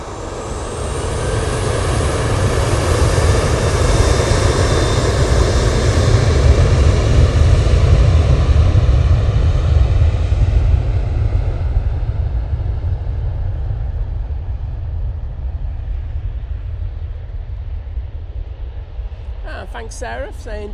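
Ryanair jet aircraft at Manchester Airport, a loud sustained engine roar that peaks midway and slowly fades as it passes, with a voice talking briefly near the end.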